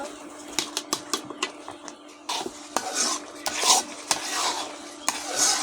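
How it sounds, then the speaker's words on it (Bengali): Semolina being stirred into a cooking carrot sweet mixture in a pot, with repeated scraping and clinking strokes of a spoon against the pan, fairly close, alongside a soft sizzle. "এই সুজিটা আমি গাজরের মধ্যে ঢেলে দেব ভালো করে নেড়ে দেব"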